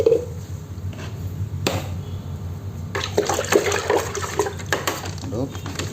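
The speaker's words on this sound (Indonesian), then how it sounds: "Kita campurkan ke dalam air yang sudah ada molasenya ya." Fish feed being mixed into water with molasses: splashing, sloshing and pouring sounds with a few knocks against the container, stirring in bursts, while a person talks over it.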